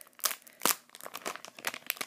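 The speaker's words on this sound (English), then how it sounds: "Cut out these mini slits so they don't explode out of the bag." Plastic blind bag packaging of Moshi Monsters series 8 figures is handled and snipped open, giving several sharp crinkling bursts followed by lighter rustles, close and alone.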